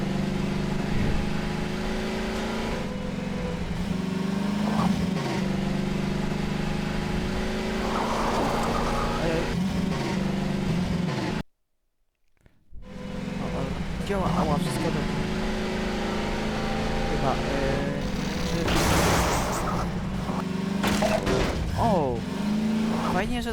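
A car driven in the video game Half-Life 2, with a continuous engine drone, shifting revs and occasional tyre and impact noises, broken by a brief silence midway, while someone talks over it throughout.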